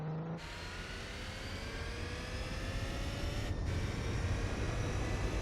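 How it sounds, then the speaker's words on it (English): Car engine revving in Gran Turismo 4, a steady, loud drone with a high-pitched buzz over a low rumble. It holds evenly throughout with no voices. "This car has such a strange sound. It's got a really high-pitched buzzing B to it, but also a low rumble."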